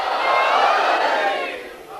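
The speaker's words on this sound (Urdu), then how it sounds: "یہ سب نعرے ہیں آپ کی طرف سے، آپ کے جذبہ ایمانی کے" A large crowd at a religious majlis gathering chants a slogan in unison, a loud, swelling roar of voices that fades toward the end.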